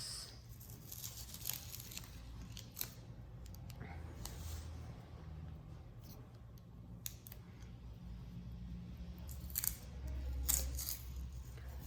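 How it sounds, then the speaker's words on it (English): Masking tape peels away from watercolor paper in a series of close, dry tearing and crinkling rips, some short and some drawn out, over a quiet low background hum. "let me pull the tape off of this"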